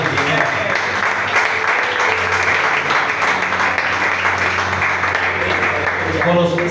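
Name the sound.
congregation applause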